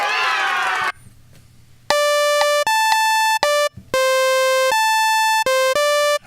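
A synthesizer patch with a slow attack plays a run of sustained, bright tonal notes, each swelling in just after the key press, some held long and others cut short, clear and alone after a brief noisy burst at the start.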